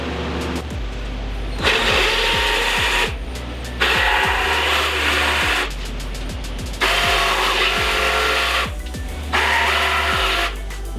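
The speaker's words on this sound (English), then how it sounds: "It's just easy to take a jigsaw and just cut them." A jigsaw cuts cutouts in shelf boards, loud and close, in several long buzzing bursts with short pauses between them as the saw is stopped and repositioned, with no talk.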